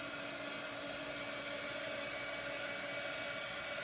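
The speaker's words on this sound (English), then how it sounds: "You can use a regular hair dryer." Continuous whooshing roar of a hair dryer blowing air, steady and unbroken, with a faint tonal whine inside the rush.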